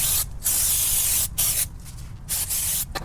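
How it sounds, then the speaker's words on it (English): Brake cleaner sprayed onto the brake rotor of a first-generation Toyota 4Runner with a solid front axle, in loud hissing bursts, one long and several shorter, separated by brief pauses. "So just use some brake cleaner"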